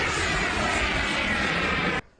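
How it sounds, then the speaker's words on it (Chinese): A remote-controlled jet aircraft roars in flight over riverbank flats along the Huwei River in Yunlin, Taiwan, a loud continuous whooshing drone that cuts off abruptly at the end. "轰隆隆巨响，遥控飞机玩家在云林虎尾溪畔河滩地大秀飞行技巧"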